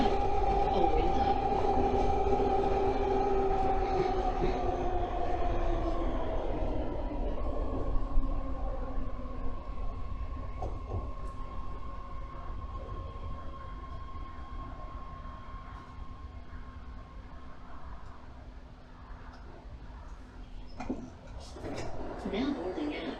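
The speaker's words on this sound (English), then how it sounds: "This is a yellow line train to Antioch." A BART yellow line train to Antioch rumbles through a tunnel after leaving Orinda, a loud steady roar with a fading high whine, wheel squeals and rattling clatter, and speech heard over it.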